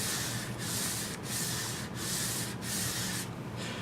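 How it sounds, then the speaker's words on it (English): A cork rubs kick wax into the base of a cross-country ski in brisk, even strokes. Five or six rhythmic rubbing passes sound up close, with no talk. "cork the second layer of wax in until it is well absorbed into the base"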